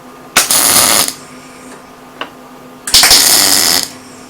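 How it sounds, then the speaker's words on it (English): Two loud crackling bursts of gasless MIG flux-core tack welding, each under a second long, with a faint click between them and no talk. "I'll just tack this up and then we'll weld it"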